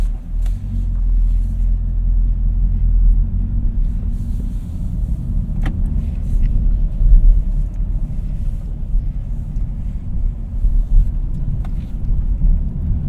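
A Chevrolet Camaro SS with a stock exhaust drives along a road, heard from inside as a steady deep engine and road rumble with some wind noise and slight swells in throttle.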